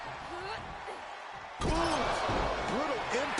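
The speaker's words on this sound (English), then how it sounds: "Brutal impact into the corner." A wrestler is slammed hard into the ring corner in WWE 2K25. A sudden heavy thud lands midway, followed by crowd noise and swooping voice-like sounds, with people talking throughout.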